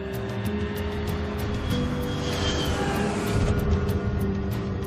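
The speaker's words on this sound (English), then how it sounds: "The plane is just moments from landing in Yaroslavl" Charter jet airliner on final approach to land at Yaroslavl, a steady loud engine roar with a broad rushing tone holding throughout.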